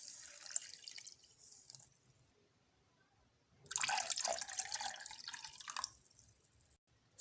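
Water poured from a cup into a bowl of dry semolina for jaggery halwa, a close, steady splashing pour lasting about two seconds after softer earlier trickling, with no talking.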